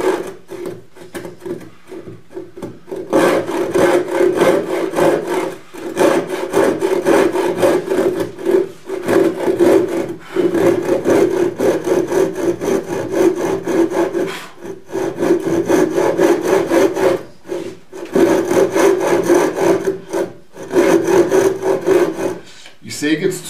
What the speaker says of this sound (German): Und je weiter ich säge, desto mehr bietet mir der bereits gesägte Sägespalt eine